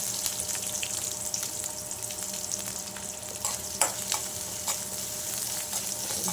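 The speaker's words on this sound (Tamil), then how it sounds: "எண்ணெய் பாத்திரத்தில் எண்ணெய் ஊற்றி கடுகு போட்டு கறிவேப்பிலை போட்டுட்டு" Mustard seeds, curry leaves and small onions sauté in hot oil in a pan, giving a steady close sizzle with faint crackles and a couple of sharper pops.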